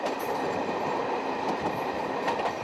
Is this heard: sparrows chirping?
no